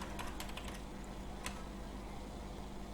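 Quick, light keystrokes on a computer keyboard while typing a prompt, a brief cluster of clicks near the start and one more tap after, faint over a steady room hum.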